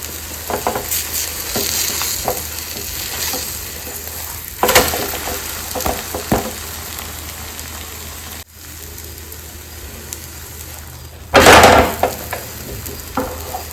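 A vegetable egg omelette fries in a pan with a continuous sizzle as it is stirred and turned. Scraping and clattering come from close by, with a louder burst near the end, and no one speaks.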